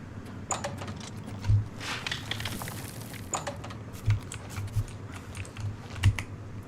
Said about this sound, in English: you won't hear all my fucking keyboard smashed. No, you can still hear it.